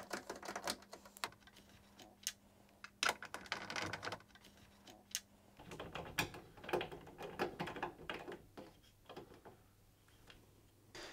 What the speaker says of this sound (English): undoing the 3 screws at the back using a 7mm socket